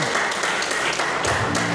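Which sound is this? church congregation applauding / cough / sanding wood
church congregation applauding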